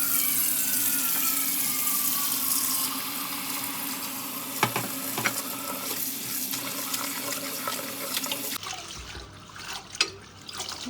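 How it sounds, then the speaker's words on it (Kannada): Curry leaves rinsed under running water in a kitchen, a continuous splashing tap stream with a few sharper knocks and drips as the leaves are handled, the flow thinning toward the end. "ಎಲೆಗಳನ್ನು ತೆಗೆದ ನಂತರ ಇದನ್ನು ನಾವು ನೀರಿನಲ್ಲಿ ತೊಳೆಯಬೇಕು"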